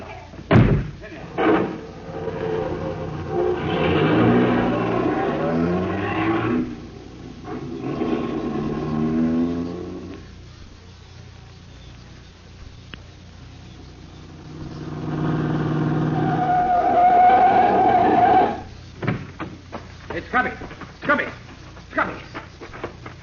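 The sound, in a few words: car doors slamming and car speeding off, radio drama effect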